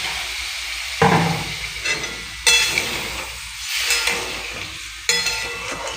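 Chickpea and pumpkin curry with potatoes is stirred in a sizzling pan, a continuous frying hiss with steam broken by several loud scraping strokes and occasional clinks of the spoon, close up with no talking.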